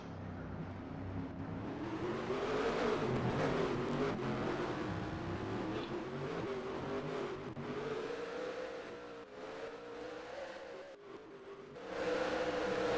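Race car engines drone and rev continuously in NASCAR Racing 2003 (NR2003), an ARCA-style oval race at Kil-Kare Raceway, a pack of cars accelerating back to speed with rising and falling pitch, loud and steady throughout with no talk.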